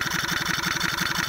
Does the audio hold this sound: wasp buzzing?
no